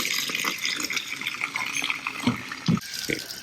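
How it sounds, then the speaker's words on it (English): Water draining out of an RV water heater tank, a continuous trickling, splashing flow with a few louder gurgling bursts near the end, close by and with no speech. "Yep, it has to completely drain."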